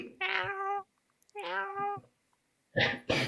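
A person imitates a cat with two drawn-out meows, separated by a pause, followed by a couple of short spoken syllables.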